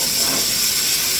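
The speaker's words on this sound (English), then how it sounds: "you hear that sizzling sound? That lets me know that that's the temperature that I want it to be." Food sizzles in a hot pan, a loud, steady, close hiss that fills the short moment without pause or voices.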